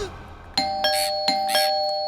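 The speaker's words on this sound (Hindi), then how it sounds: "अरे कोई घंटी बजा रहा है और तुम दरवाजा नहीं खोल रहे हो?" A doorbell in a Bollywood comedy film rings with a string of bright, clear ding-dong chimes that repeat several times close by.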